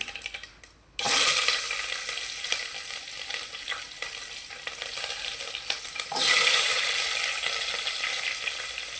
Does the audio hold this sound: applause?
no